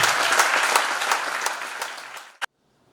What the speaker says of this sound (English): A big round of applause again for Team Andhra Pradesh